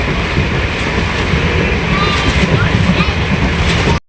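Inside a moving passenger train on the Sondad to Gondiya line, a loud, dense, continuous rumble and rattle fills the carriage, steady until it cuts off abruptly at the end.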